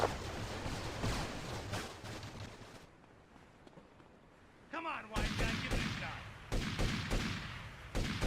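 Gunfire in the GTA Vice City video game during a six-star wanted-level rampage: dense bursts of shots and explosive cracks through the first three seconds, a quieter gap, then heavy firing resumes loudly with brief louder blasts toward the end.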